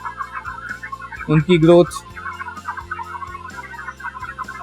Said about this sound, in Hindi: जो हमारे मुर्गे हैं, बर्ड्स हैं